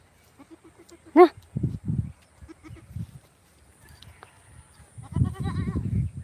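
Goats bleat nearby at a market: a loud, sharp bleat early on, softer low calls in between, then a long wavering bleat near the end.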